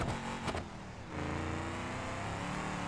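A car driving over sand dunes in BeamNG Drive, its engine droning steadily with a brief dip and then a rising, sustained revving tone, loud and continuous.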